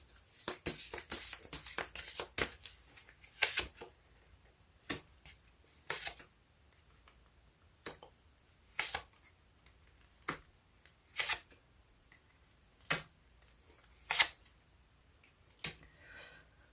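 Tarot cards are shuffled and laid out in quick crisp bursts, first a rapid flurry of riffles, then sparser single card snaps and slides spaced a second or two apart, close and quiet, with no talk.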